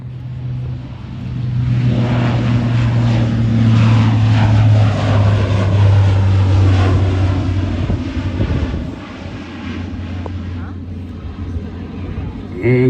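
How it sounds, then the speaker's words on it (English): A Blue Angels jet at NAS Pensacola makes an accelerated takeoff and climb, its engine roar swelling loud and then easing off, while an announcer's voice talks over it. "He'll hold the aircraft down in what we call an accelerated takeoff."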